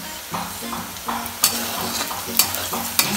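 Turmeric and salt frying in a pan with mushrooms, a soft sizzle under repeated scraping stirs and several sharper clanks of the spoon against the pan, near and fairly loud.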